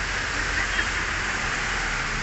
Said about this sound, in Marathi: तर बघा पावसानं सुरुवात केली